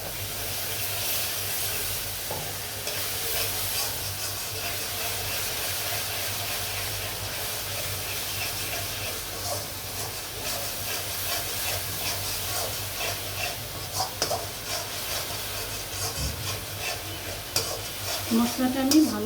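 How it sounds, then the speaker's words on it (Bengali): Masala with yogurt is stir-fried in a pan for chicken dolma, a steady close sizzle and hiss running continuously, with occasional stirring scrapes and small pops and no talking. "মশলাটা আমি ভালো করে কষাবো।"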